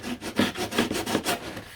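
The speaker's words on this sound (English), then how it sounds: "it's sanding like foam as well" Soft, foam-like material being sanded by hand on a restoration project, giving a steady run of rhythmic abrasive rubbing strokes, close and moderately loud, with no voices.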